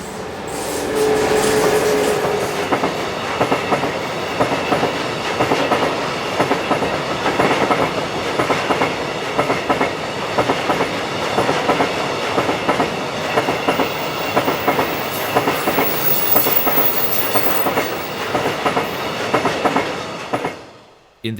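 Electric locomotive 1116 176 runs past the western end of the railway tunnel at Clam, heading towards Semmering. It makes a loud, continuous rumble and wheel clatter that stays close for about twenty seconds before cutting off abruptly.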